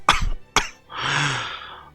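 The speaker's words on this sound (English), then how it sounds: "Izuku coughing up blood," Two sharp wet coughs in quick succession from someone coughing up blood after a throat wound, followed by a raspy, strained exhale, close and fairly loud.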